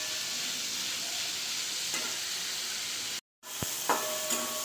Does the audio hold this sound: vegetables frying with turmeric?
yes